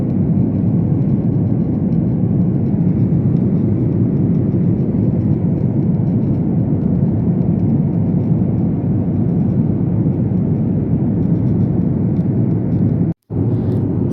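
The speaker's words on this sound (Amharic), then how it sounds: "ፕሌን ውስጥ ገብተን ጨርሰን ምናምን እንግዲህ ጉዞ ጀምረናል ማለት ነው" Steady loud broadband cabin roar of a passenger airplane in flight before dawn, a continuous low rumble with no talk, cut by a brief dropout near the end.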